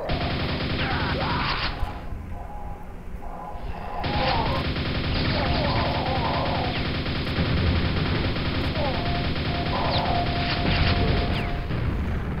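Nail gun fire in the video game Quake: rapid, continuous mechanical bursts of shots, with a brief lull midway before the firing resumes steadily and loudly.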